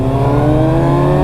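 A Ford Mustang's engine drones loud and close, a steady sustained rumble with no talking over it.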